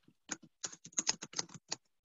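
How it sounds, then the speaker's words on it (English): Typing on a computer keyboard: a quick, uneven run of close, clear key clicks with small gaps, sounding on its own. "I hear typing."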